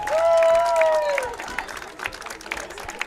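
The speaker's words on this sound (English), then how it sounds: "let's have a warm round of applause for the Rhinebeck Panther cheerleaders doing an outstanding job at today's game" Crowd applause and cheering at a high school football game for the Rhinebeck Panther cheerleaders, a sustained held tone opening before scattered clapping fades out under a distant public-address voice.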